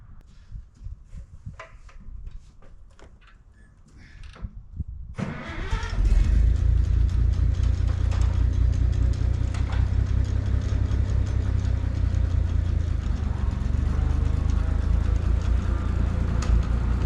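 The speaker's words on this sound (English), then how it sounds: "So I'm gonna use the tractor to push it in." A Minneapolis Moline M5 tractor engine cranks and catches after a few seconds of quiet ticking, then settles into a loud, steady, rumbling idle close by that runs to the end.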